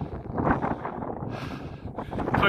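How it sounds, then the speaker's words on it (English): Strong wind on a golf course at Church Stretton Golf Club buffets the microphone steadily, a loud rushing rumble with gusts rising and falling throughout. "Quite windy today, it's staying dry hopefully."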